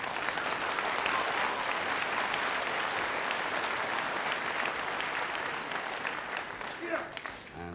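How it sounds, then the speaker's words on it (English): Spectators at a 1970s World of Sport wrestling bout at the Cliffs Pavilion, Westcliff-on-Sea, applaud in a dense, sustained roar of clapping that eases off near the end. "that applause shows you just how the spectators here at the Cliffs Pavilion, West Cliff-on-Sea, really appreciate their wrestling"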